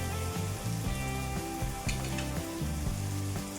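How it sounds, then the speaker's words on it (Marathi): Onion and tomato sautéing in a pan for a pasta dish, a steady close sizzle and frying hiss with faint stirring, heard over background music. "कांदा आणि टोमॅटो आता हे छान करून परतून घ्यायचं"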